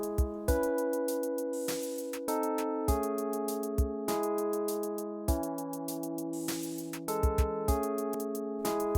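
A GarageBand beat made with a kick drum pattern that has extra kicks placed between the basic hits. Steady, punchy low thumps repeat under sustained synth chords and melody, and there is no talking.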